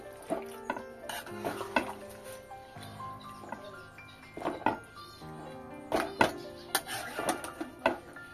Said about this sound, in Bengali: মিশিয়ে দিলাম।